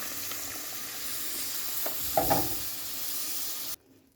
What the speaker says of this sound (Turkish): Şerbetimizin hepsini dökelim.